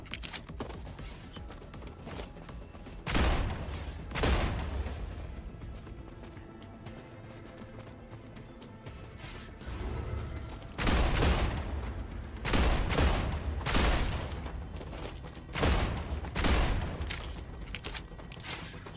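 Gunfire in the first-person game StarRupture comes in separate loud clusters of sharp shots, with quieter stretches of ambient game sound between bursts and no talking.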